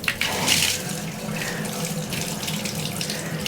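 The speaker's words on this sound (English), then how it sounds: "I'm gonna take a 5-gallon bucket and I'm gonna put some real hot water in." Hot water gushes steadily from a tap into a 5-gallon bucket, a close, continuous splashing rush with no voices.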